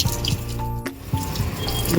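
Water pours steadily onto potted rose and jasmine plants in a rooftop garden, a close, continuous rushing splash with a brief dip partway through and no voices.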